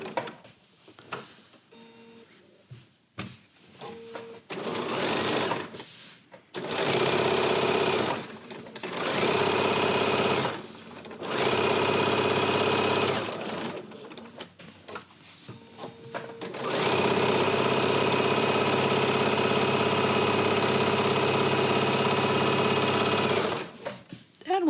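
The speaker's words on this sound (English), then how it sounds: "So the last thing I'll do is I'll sew around the outside edge" A sewing machine stitches around the outside edge of a quilt-as-you-go block in several steady, loud bursts separated by short pauses, with no talking.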